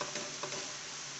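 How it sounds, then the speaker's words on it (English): Faint, steady stirring of paneer butter masala in a pan, with a soft continuous sizzle and a couple of light scraping strokes, no talking. "A continuous stirring is needed."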